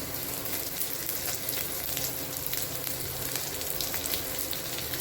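Dried red chillies fry in a pan, making a close, steady crackling sizzle that holds evenly throughout with no voices.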